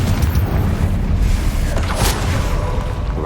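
A spell explosion in Hogwarts Legacy goes off as a loud, dense boom with a crackling burst and rumbling debris, the effect filling the whole moment without any talk.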